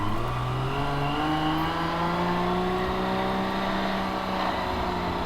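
A 750 HP big-turbo 1JZ Toyota Soarer accelerating hard, a loud continuous engine note climbing in pitch through the gears, heard from inside the car with no talking.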